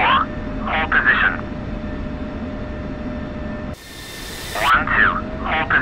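A military jet taxis toward the runway in the DCS flight simulator, its engine a steady whining drone beneath clipped radio voices, with a burst of static hiss midway.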